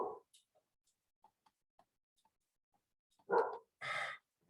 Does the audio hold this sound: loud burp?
no